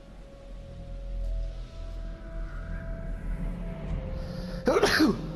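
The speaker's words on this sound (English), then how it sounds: "I'm just sneezing." A single sharp sneeze bursts out near the end, following a stretch of low, cold outdoor rumble and faint background noise.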